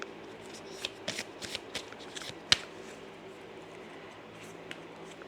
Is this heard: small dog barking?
no